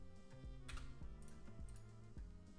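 Keys clack softly on a computer keyboard in an irregular patter of taps, faint and close, over a steady background hum.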